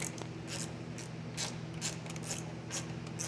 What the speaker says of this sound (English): Just wanted to get my nice ratchet.